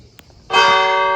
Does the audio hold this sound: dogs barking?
no